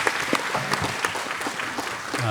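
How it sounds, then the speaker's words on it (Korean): A church congregation claps in thanks during a worship service, a moderate patter of many hands with scattered sharper claps, fairly close, with some voices mixed in underneath. "감사의 박수로 하나님께 드리겠습니다."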